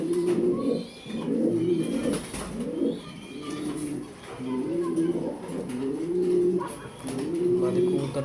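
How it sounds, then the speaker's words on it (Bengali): An uncommon female pacer grizzle pigeon cooing close by, repeated rolling coo phrases in a steady rhythm with short pauses between them. "দেখতেই পারতেছেন এটা একটা আনকমন পেসার গ্রিজেল মাদি কবুতর"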